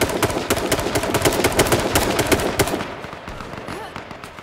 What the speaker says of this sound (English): Yeah, I'm getting shot from the side.